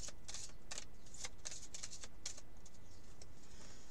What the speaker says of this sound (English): I'm going to shuffle the seven cards. Just shuffle them up.